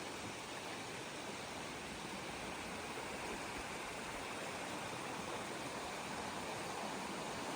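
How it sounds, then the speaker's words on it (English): The Manning River in New South Wales flows with a continuous rushing wash of water, steady and even throughout, with no voices. "The river hasn't slowed down any"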